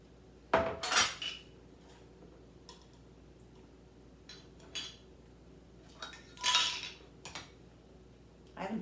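Utensils clink and scrape against a dish as mild garlic is mixed into food, in a few scattered sharp metallic knocks separated by quiet pauses.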